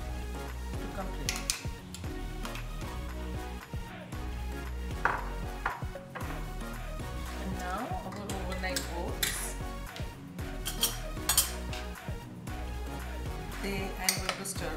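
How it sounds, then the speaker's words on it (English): Spoon scooping overnight banana and pecan oat pudding with orange into a bowl, with small clinks of utensil against dish and soft scraping over light background noise, no talking heard. "I'm going to scoop it out in a bowl"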